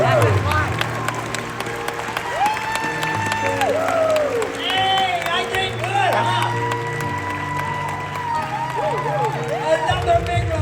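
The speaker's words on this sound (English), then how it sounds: "Another big round of applause if you will, ladies and gentlemen." A crowd claps and cheers for a woman being introduced, with sustained applause under loud music with sliding tones. Voices and shouts mix in.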